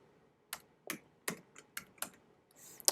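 Computer keyboard keys clack in a handful of separate, sharp strokes with short gaps between them, close and quiet, ending in a quick burst, with no talk.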